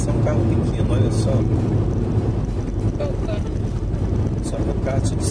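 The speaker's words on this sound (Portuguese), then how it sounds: "E a carreta que vai ultrapassar um carro pequeno" A semi-trailer truck overtakes a small car on a road near Baunilha, Colatina, its steady low engine rumble and wind noise running continuously, with someone talking over it throughout.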